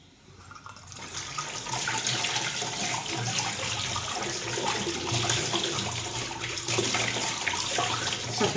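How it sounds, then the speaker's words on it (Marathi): Running water from a tap splashes steadily over an item being rinsed clean by hand, a continuous close wash that lasts throughout with no talking. "आपण याला वॉश करून बघू आणखीन."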